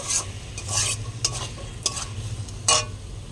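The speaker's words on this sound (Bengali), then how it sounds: "এই মশলাটা কষা কষা হয়ে গেছে।" Spice masala for kundru (ivy gourd) korma being stirred and fried in a pan, with a run of sharp, close scraping strokes over a soft sizzle, coming in quick uneven bursts with no voices.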